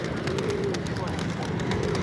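Pigeons coo in a city pigeon park in Malé, Maldives, soft repeated low calls rising and falling over a busy outdoor background, with someone speaking over them.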